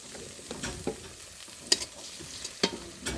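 Ginger and garlic fry with onions in a pot over a clay stove, giving a soft, low sizzle marked by scattered clicks and spoon taps, with a couple of sharper knocks; no voices.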